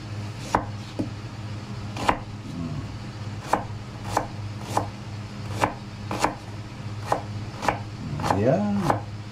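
An onion is chopped with a knife on a board in a home kitchen, in close, regular knocks about once per second, ending in a brief scraping flurry.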